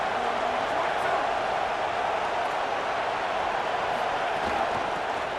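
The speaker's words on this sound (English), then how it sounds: "Listen to this crowd just shaking the girders of this place," Large crowd roaring at a college football stadium during Oklahoma vs Florida, a dense, sustained wall of cheering noise that stays loud and steady the whole time.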